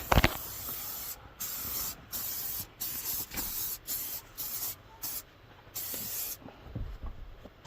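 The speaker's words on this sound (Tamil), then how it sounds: "இப்போ இந்த ஸ்ப்ரே தான் அடித்து ஃபுல்லாக எல்லாமே வந்து க்ளீன் பண்ணுறோம்." Cleaning spray hisses onto vehicle seats in a rapid series of short, sharp bursts, close and loud, with brief gaps between each squirt.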